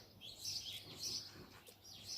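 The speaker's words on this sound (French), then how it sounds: "Les oiseaux après ça ne doit pas gêner" Birds chirping outdoors, soft high tweets repeating in short calls at a distance, faint against quiet background noise.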